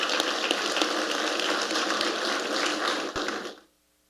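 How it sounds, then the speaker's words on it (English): Audience applause for a production team at an anniversary panel event, a dense, steady clapping from a crowd that carries on for several seconds and then stops abruptly. "A round of applause for them, please."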